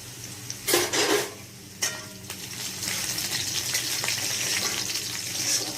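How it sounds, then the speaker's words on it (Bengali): Chopped garlic frying in a pan with carrots while cooking pasta, giving a steady close sizzle with a couple of louder bursts of crackle early on and no talk. "এবার দিলাম রসুন কুচি"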